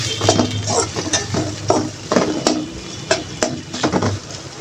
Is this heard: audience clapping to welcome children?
no